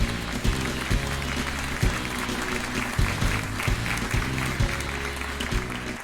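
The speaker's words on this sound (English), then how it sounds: "Thanks for the applause" Audience applause on a talk radio show, a steady wash of clapping over about six seconds beneath a looping music bed with a regular thumping beat.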